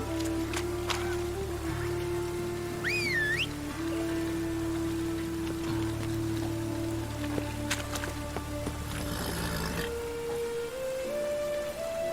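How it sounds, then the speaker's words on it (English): Steady rain falls in the Witcher 3 video game, a constant hiss running throughout beneath a low ambient music drone with a few faint incidental tones. "Lots of fuss over lots of rain."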